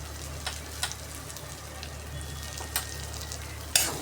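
Samosa filling of potato and peas sautéing in oil with chili powder, a continuous close sizzle over a low hum, punctuated by a few sharp spoon scrapes and taps.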